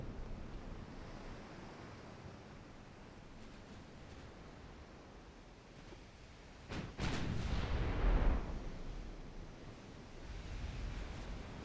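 A battleship's guns booming in a naval warfare game set around 1909, a single loud rumbling salvo rising out of steady sea and wind ambience midway through, then fading back to the background wash.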